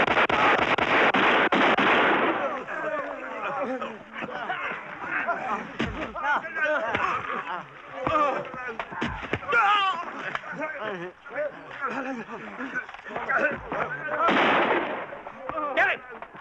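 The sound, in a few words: gunfire in a film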